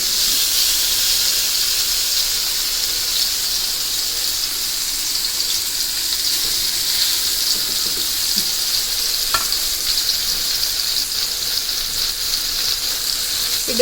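Glass Gowri fish coated in chiroti rava fries in hot oil with a steady, bright sizzle and hiss, close and constant throughout with faint crackles and no voices.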